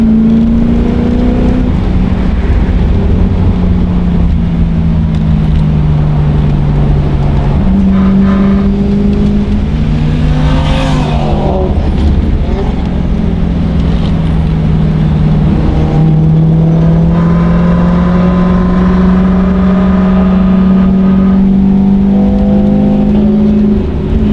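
A turbocharged BMW E36 with a slipping clutch drives hard on a race track, its engine droning loudly and rising and falling in pitch as it revs through the run, with no talk.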